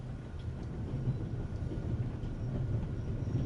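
A train rolls along in the game The Raven Remastered, making a continuous low rumble with faint rhythmic clatter. The sound is steady and moderately quiet throughout, with no voices.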